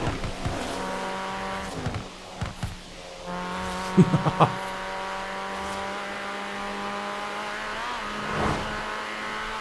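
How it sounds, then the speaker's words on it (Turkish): A modified Renault Megane RS engine in Forza Horizon 4 drones steadily with harmonic whine, swelling into brief revs and a couple of sharp exhaust bursts, with a short laugh near the start. "Biraz egzoz çığırtısı duyalım çatara patara."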